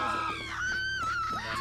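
Characters in The Witcher 3 scream in one long, wavering wail that rises and falls in pitch and carries on without a break, close and fairly loud.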